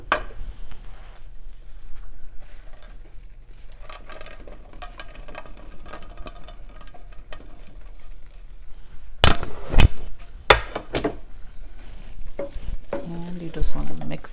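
Soybeans tumble into a hot pan for a soybean chilli, first a steady low sizzle, then sharp clattering bursts of a spoon stirring and scraping through the beans, loud and close.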